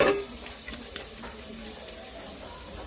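Ginger sizzling in hot oil in a pan for a Filipino chicken-less tinola, a steady close hiss with faint crackles after a brief initial clatter.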